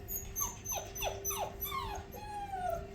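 Australian Shepherd puppies in a play pen whimper and yip in a run of rising and falling cries over a steady hum, close and moderately loud.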